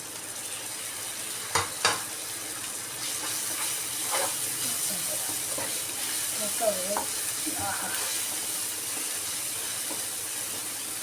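Dried prawns fry in a pan with a continuous hiss and sizzle, broken by occasional sharp pops and stirring clatter close by.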